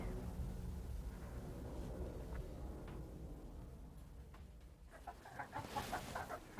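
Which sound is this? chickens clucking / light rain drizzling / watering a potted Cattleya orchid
chickens clucking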